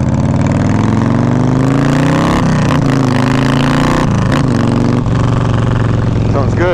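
Custom Yamaha Road Star Warrior XV 1700 motorcycle with aftermarket exhaust pipes, revving loudly up close in several throttle blips over a deep, steady idle, with no talk.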